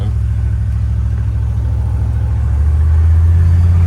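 A 1968 Cadillac DeVille accelerates while driving, its engine a steady heavy low rumble heard from inside the car that swells louder and deeper toward the end as speed builds.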